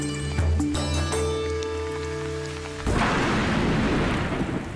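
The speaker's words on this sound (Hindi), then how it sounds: "बारिश की रिमझिम फुहारों को ही लीजिए।" After a few seconds of sustained tonal sounds, heavy rain suddenly bursts in as a loud, dense wash of noise that continues to the end, with low rumbling underneath.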